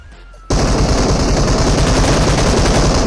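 Sustained automatic gunfire in the BGMI mobile battle royale game, bursting in loudly after a brief quiet start and continuing as dense, rapid shots.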